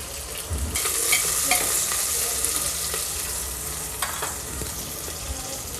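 Onion and chilli fry in a pan with salt for a simple moong dal khichdi, sizzling steadily up close while a utensil stirs and scrapes now and then.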